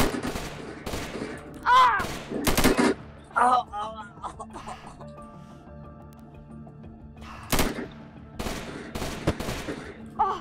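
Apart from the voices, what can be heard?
gunfire from the video game Unturned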